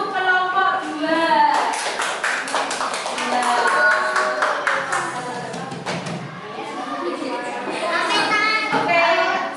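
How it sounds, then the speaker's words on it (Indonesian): Third-grade schoolchildren in a classroom applaud a group of classmates, a bright burst of clapping mixed with lively young voices that swells again near the end. "Tepuk tangan untuk kelompok 2."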